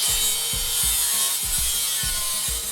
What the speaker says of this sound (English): I think what I'm gonna do is grind it off.